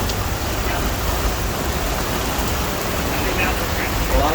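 Heavy rain during a thunderstorm on the Kilimanjaro Safaris ride at Disney World, a dense, even hiss of downpour throughout, close and loud.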